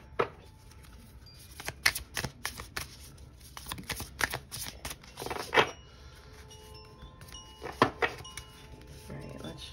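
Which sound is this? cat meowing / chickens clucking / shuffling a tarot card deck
shuffling a tarot card deck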